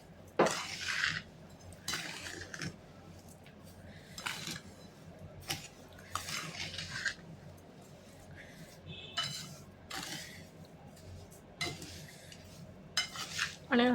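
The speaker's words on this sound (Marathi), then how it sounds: "आणि छान हलवून घ्यायचं. पूर्ण साखरेत मिक्स करायच्या त्या कैऱ्या." Raw mango pieces stirred into sugar with a metal spoon in a pot, giving repeated scraping clinks and soft clatters in bursts, fairly close and clear with no talk.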